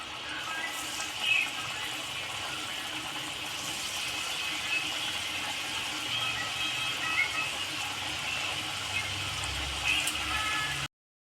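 Palm-fruit pitha pieces frying in hot oil in a wok make a steady, soft sizzling hiss that holds evenly from start to end at moderate volume.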